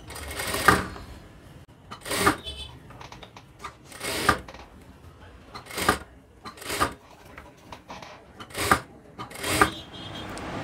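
A sewing machine runs in short bursts while joining a blouse sleeve to the armhole, with about seven quick, rattling runs separated by brief pauses and no talking.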